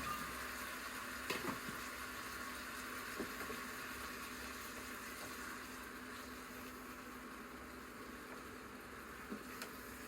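Pepper fries alongside chicken breast in a pan with garlic and turmeric, giving a steady, even sizzle throughout with a few faint clicks and pops and no voices.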